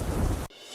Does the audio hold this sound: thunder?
yes